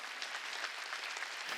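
A church congregation at a Wednesday worship service applauds, a fairly faint and steady patter of clapping heard from a distance.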